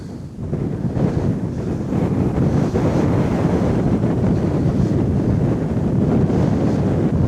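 Loud, blustery wind buffeting the microphone beside the River Ancholme at Bishopbridge, a constant roar with surging gusts and a watery wash beneath.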